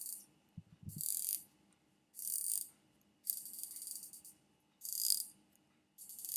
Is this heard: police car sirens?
no